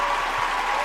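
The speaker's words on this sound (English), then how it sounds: "I appreciate the applause from our live studio audience here today" Live studio audience applauding a guest on a talk show, a steady dense wash of clapping for under a second with no pauses.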